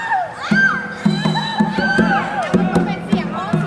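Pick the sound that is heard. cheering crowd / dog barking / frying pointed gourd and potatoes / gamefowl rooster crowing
cheering crowd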